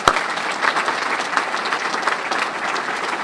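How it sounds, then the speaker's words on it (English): An audience claps to honor physicians of a valley health system, steady dense applause with no voices over it throughout. "I would like you to recognize them by clapping for them."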